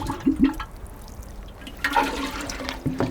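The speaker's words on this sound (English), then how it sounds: "and then give it a good water." Water pours from a watering can onto fresh compost in a garden plant container, a close gurgling splash in a few bursts.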